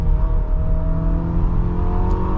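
A turbocharged engine in a 2025 Infiniti QX60 Luxe AWD accelerates with a steady, loud, humming drone heard from the cabin, with no talking.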